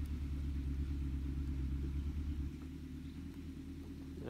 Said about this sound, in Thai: รถปั้นเข้ามาแล้ว